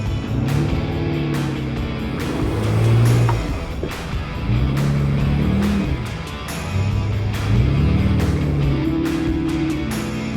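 Truck engines rev and rise in pitch repeatedly during an off-road recovery, with a pickup tugging a stuck vehicle free on a kinetic strap, loud and close, with clanks and bumps between surges.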